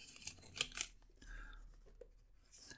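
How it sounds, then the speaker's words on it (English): Scissors cutting open the packaging of a Leonardo Momento Magico, heard as a few quick close snips and crisp tearing of material, followed by quieter rustling and handling; no speech. "Just gonna cut this open."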